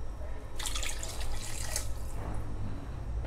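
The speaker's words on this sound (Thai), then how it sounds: "ตามต่อด้วยน้ำซุปนะครับ" Soup stock pouring into a pot while braising pork ribs in red sauce, a steady close splashing and trickling of liquid lasting a few seconds.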